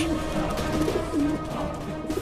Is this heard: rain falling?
no